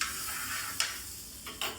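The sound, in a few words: butter sizzling on a griddle pan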